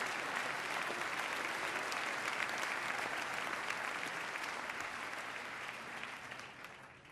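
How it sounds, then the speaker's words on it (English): An audience at the New York State of the State 2013 address claps for Glens Falls, broad sustained applause from a large crowd that holds steady and then tapers slightly toward the end. "don't have just Betty clap for Glens Falls"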